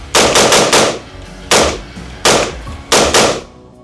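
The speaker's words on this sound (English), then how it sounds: "let's go ahead and put another 10 rounds down range" Radical Firearms RF-15 rifle firing a string of rounds at an outdoor range, loud sharp reports in quick bursts of two to four shots separated by brief pauses.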